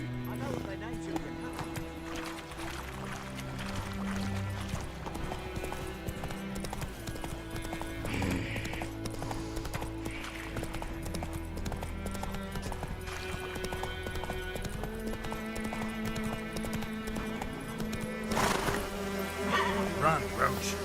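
Roach, Geralt's horse from The Witcher 3, gallops with steady clip-clop hoofbeats and gives a neigh, set against game music and spoken voices.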